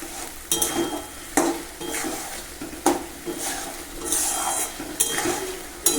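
Spices, salt and masala for vegetarian dhokar dalna, a chana dal lentil-cake curry, are stirred and sautéed in a pan: steady frying crackle with repeated sharp scrapes and knocks of the spoon against the pan at an uneven rhythm, close and clear.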